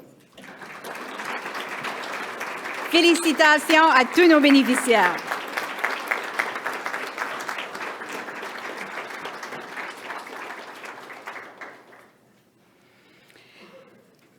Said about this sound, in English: please stand so that we can offer you a warm hand of applause